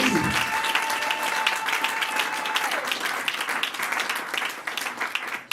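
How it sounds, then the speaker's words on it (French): A church congregation bursts into loud, sustained applause during a sermon, a dense continuous wash of clapping with a faint steady tone running through the first half. "Applaudissez pour réveiller"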